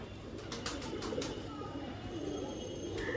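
Active pigeons with closed tails give low, repeated cooing over a steady background hum, fairly close.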